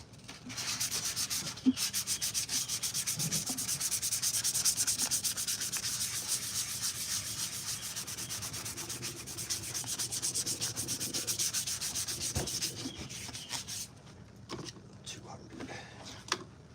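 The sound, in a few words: sanding putty on a Stormtrooper helmet with 400 grit sandpaper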